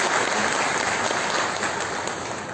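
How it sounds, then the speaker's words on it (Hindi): A university seminar audience gives loud, dense applause to welcome a Padma Shri chief guest, a sustained wall of clapping throughout. "पद्मश्री भारत भूषण त्यागी जी का जोरदार तालियों से स्वागत है"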